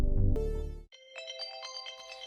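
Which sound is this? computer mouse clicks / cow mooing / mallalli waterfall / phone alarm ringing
phone alarm ringing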